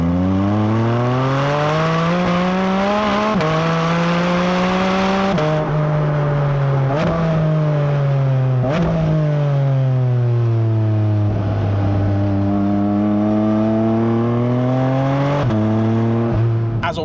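Porsche 718 Cayman GT4 RS engine revving loud and close through its 7-speed PDK gearbox, the pitch climbing and dropping sharply across several quick gear changes over a sustained, steady roar.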